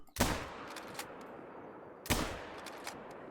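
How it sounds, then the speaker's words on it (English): Two loud, sharp rifle shots ring out about two seconds apart in theHunter: Call of the Wild, each with a short echoing tail fading into quiet outdoor ambience. "That was a bad shot."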